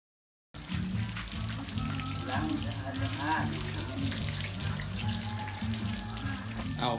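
Tap water runs steadily into a sink as paint is washed off a face, a close, constant splashing hiss with faint voices murmuring underneath.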